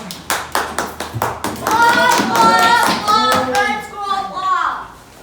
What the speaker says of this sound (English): One more round of applause for the little man here.